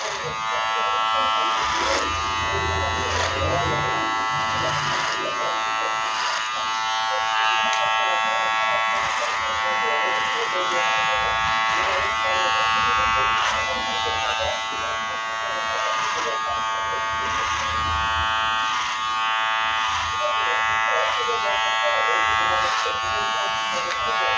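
Electric hair clippers buzz steadily and loudly while cutting a man's short hair in a barber training session, a continuous close drone with slight pulsing as the blade moves, under intermittent instructor speech.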